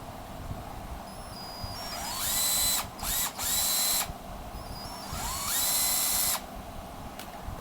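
A cordless power drill runs in several bursts, each spinning up to a high whine and stopping, with a brief stutter between runs; the drill is close and loud over a low background hum.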